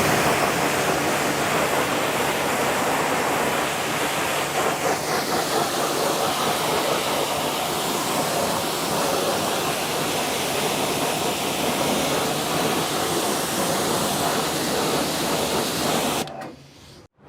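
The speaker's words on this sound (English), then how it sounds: "go get the pressure washer and give them a rinse" Pressure washer spraying non-acid cherry wheel cleaner off car wheels, a steady loud broadband hiss of water jet running continuously, shifting slightly as the spray moves, then cutting off abruptly at the end.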